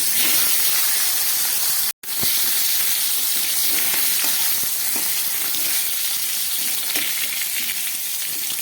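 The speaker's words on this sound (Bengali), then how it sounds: "এই তেলের মধ্যে আমি দিয়ে দিচ্ছি সাদা জিরে ফোড়ন, দিয়ে দিচ্ছি একটা তেজপাতা, আর সঙ্গে দিয়ে দিচ্ছি কয়েক টুকরা আলু" White cumin seeds, a bay leaf and a few potato pieces fry in hot oil for fish curry, giving a loud continuous sizzle with one brief break.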